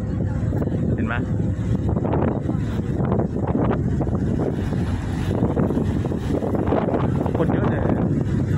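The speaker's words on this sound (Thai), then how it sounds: "อันนี้ก็เนี่ยจะเป็นเรือที่เรานั่งหน้าตาแบบนี" Boat ride on choppy water near Wichai Prasit Fort, steady engine and water rush with strong wind buffeting the microphone, a person talking over the noise throughout.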